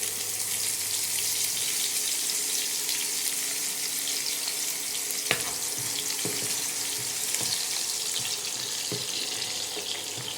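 Spring onions fry in hot oil in a pot, giving a steady, close sizzle that runs throughout, with a few sharp clicks of stirring in the second half.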